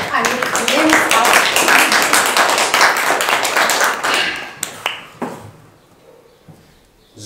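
An audience at a magic show at a castle applauds in a dense, lively burst of clapping that thins into scattered claps and fades to near silence.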